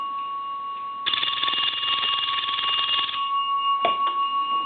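An old A&E Spacesaver telephone bell rings loudly with a fast metallic rattle for about two seconds, then a short clack as the ringing stops, over a steady hum.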